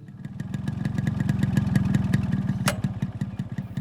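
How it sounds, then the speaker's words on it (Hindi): A motorcycle engine idles steadily with an even, rapid thudding pulse, close and fairly loud throughout, with a brief high metallic ring near the end; no voices. "इंजन की धक धक धक धक अब भी जारी थी।"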